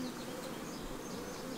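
Honey bees buzz steadily around a queen cell frame in a hive colony, a dense, continuous low hum at moderate volume with no talking.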